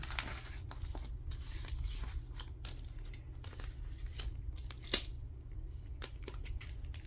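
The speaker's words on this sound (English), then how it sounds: "I'm gonna go ahead and cut this vellum down some" Scissors snipping through a sheet of vellum paper for a journal, with a steady series of close, crisp cuts and rustles and one sharper snip near the end, heard over a low background hum.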